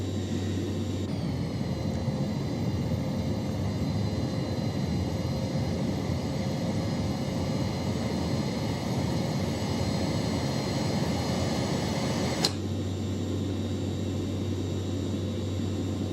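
Citation Jet 525 engines climbing in X-Plane 12, a steady loud jet drone with a constant high whine, unbroken for the whole stretch apart from a brief click near the end.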